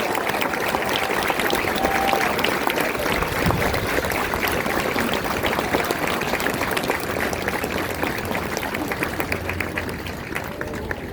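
Sustained applause from a large graduation audience honoring new Marines at the recruit depot, a dense steady roar of clapping lasting the whole stretch without pause.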